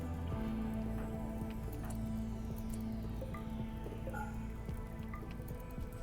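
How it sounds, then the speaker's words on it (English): Rain falls in the RimWorld colony game, putting out fires, as a steady dense hiss over a low sustained drone with scattered faint drips and chimes. "here comes the rain to put down the fires"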